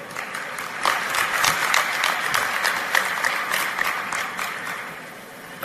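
Audience at a religious lecture breaks into sustained clapping, a crowd of many hands with sharp individual claps standing out, fairly steady before tapering off slightly at the end.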